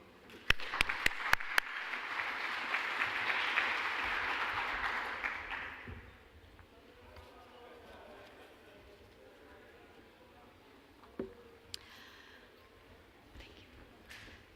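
Audience applause welcoming Galina Antova at a 2014 conference session, a dense burst of clapping for about six seconds that then fades into quiet room noise.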